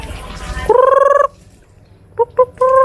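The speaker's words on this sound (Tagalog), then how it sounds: "May manok dito" A rooster crows loudly close by, a long clear call followed by a short pause and then more clipped, rising crowing notes.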